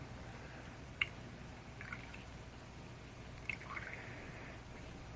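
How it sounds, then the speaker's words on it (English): Water drips faintly from a blending brush lifted out of its water, with two soft, isolated drips separated by a few seconds against a quiet room background. "I better get that blending brush out of that water before it sits here all day."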